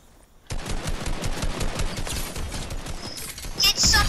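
Rapid gunfire in the video game Fortnite, a dense sustained burst of shots that starts abruptly and continues to the end, with excited players talking over it.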